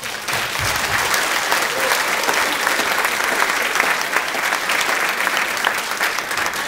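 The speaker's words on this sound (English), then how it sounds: "If you guys would give me a round of applause for our panel up here" An audience at a parent meeting for a D.C. trip applauds a panel, with dense, steady clapping that holds at an even level for the whole stretch.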